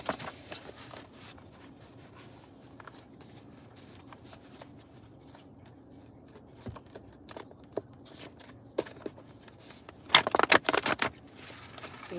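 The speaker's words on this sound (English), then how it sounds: "let me shuffle up my cards." Tarot cards being shuffled by hand: soft rubbing and sliding at first, then a burst of louder, rapid riffling clicks near the end, close up with no talking.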